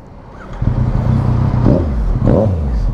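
A Yamaha MT-09 900cc three-cylinder motorcycle cranks and fires up, the starter whir giving way to a couple of sharp revving bursts before it settles into a close, throaty idle.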